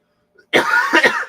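A person who is sick with a cold coughs two or three times in a quick, harsh burst, close up and alone after a moment of silence.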